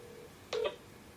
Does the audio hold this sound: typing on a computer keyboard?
no